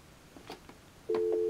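Telephone line tone heard off hook through a line tap on speakerphone, a few faint clicks and then a steady loud tone starting abruptly and holding to the end, no talking.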